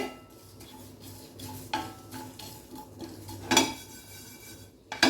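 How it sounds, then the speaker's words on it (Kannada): Dry homemade masala spices rattle and scrape in a pan over low flame as a spoon stirs them, with intermittent metallic clinks and a faint background hum. "ನಾನು ಲೋ ಫ್ಲೇಮಲ್ಲಿ ಫ್ರೈ ಮಾಡ್ತಾ ಇದ್ದೇನೆ"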